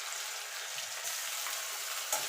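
Ground ginger and green chili paste frying in hot oil for a vegetable chop filling, a steady soft sizzle running throughout with a faint stir near the end, no voices.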